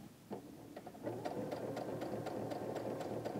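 A sewing machine stitches quilt fabric for a string-pieced border, its steady close whirring overlaid with a quick regular ticking of the needle, running alone without voices.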